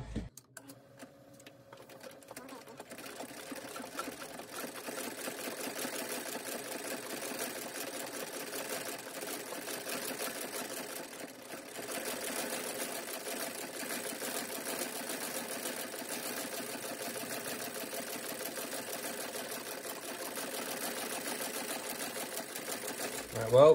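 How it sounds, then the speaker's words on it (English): A shoe stitching machine sews around a Danner Sierra shoe, running with a steady rapid mechanical chatter that holds for about twenty seconds, close and moderately loud, ending with a brief louder clunk. "Hopefully it will stitch all the way around."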